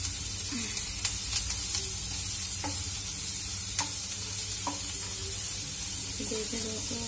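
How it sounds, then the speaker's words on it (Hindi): Onions frying in a pan until golden brown for kadhi, a steady close sizzle broken by several clinks and scrapes of a spoon stirring against the pan. "प्याज को गोल्डन ब्राउन होने तक इसको भूनेंगे"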